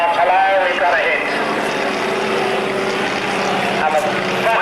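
Propeller engine of a Fokker aircraft in a mock dogfight at an air pageant, a loud steady drone with shifting pitch sweeps throughout, heard under a commentator's voice over the public address.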